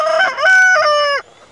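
A rooster crows once in a loud, close, drawn-out cock-a-doodle-doo with rising and falling notes, clear and alone over a quiet farmyard.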